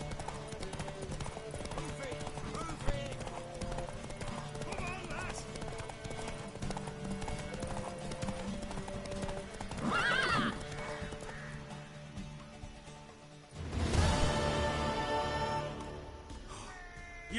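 Horse hooves clip-clop steadily in The Witcher 3 amid ambient game sound, with a short whinny near the middle and a louder, drawn-out neigh toward the end.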